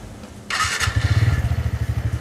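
TVS Ntorq 125 RA scooter with a large, wide, flat exhaust and a big outlet: a starter whir, then the engine catches and settles into a loud, close, steady throbbing idle.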